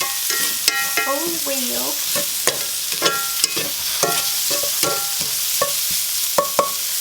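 Shrimp and noodles stir-frying in a pan, giving a steady loud sizzle with repeated scraping and clinking strokes of a utensil, while a person speaks briefly over it.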